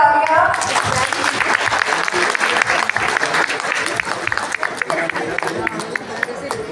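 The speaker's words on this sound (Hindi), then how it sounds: "जोरदार तालियां।" Loud, sustained applause from an audience at a school annual function, dense clapping filling the room from the start and continuing steadily throughout, with crowd chatter beneath it.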